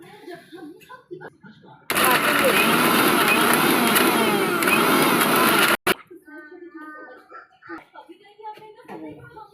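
A kitchen mixer grinder blends a cooked masala paste, roaring loudly and steadily for about four seconds before cutting off abruptly, with someone talking before and after it.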